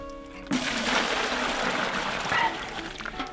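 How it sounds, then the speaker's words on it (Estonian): Clean water flowing from the ground, a steady close trickling and splashing that starts abruptly after a short quiet moment and runs on alone with no talk. "Maa sees tuleb vesi."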